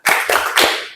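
Three sharp hand claps in a steady rhythm, loud and close, with no voices.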